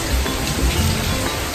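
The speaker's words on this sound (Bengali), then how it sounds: "এদিকে ঝমঝম করে বৃষ্টি হচ্ছে" Heavy rain pours down in a steady, dense, loud hiss that does not let up, with no voices over it.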